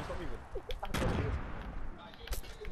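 A grenade blast in Fortnite booms out near the middle, a loud broad burst that tails off, with smaller pops and clicks of the match before and after and occasional voices.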